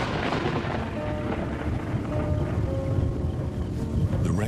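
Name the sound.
rainstorm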